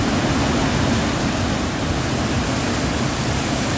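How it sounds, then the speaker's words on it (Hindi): Yamuna river water released from the Hathnikund barrage after heavy rain, a loud continuous roaring rush of floodwater, steady and unbroken throughout with no voices. "हथनी कुंड बैराज से यमुना नदी में यह पानी छोड़ा गया।"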